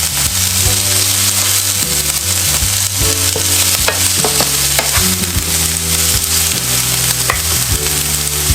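Mixed vegetables for a stir-fry cabbage dish sauté in a hot pan, giving a steady close sizzle with stirring noises over a continuous tonal backdrop that sounds like music.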